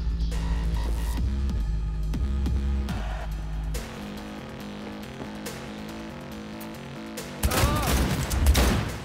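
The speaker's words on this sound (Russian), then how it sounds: "Выстрел!" Rapid bursts of gunfire crackle over a loud, throbbing electronic music track in the video game Cyberpunk 2077, with a heavier burst of blasts near the end.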